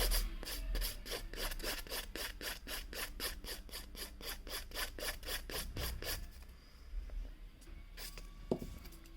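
An acrylic nail being filed along the top near the smile line: steady, rhythmic rasping strokes, close and fairly quiet, about two per second, which stop partway through and leave a few faint taps.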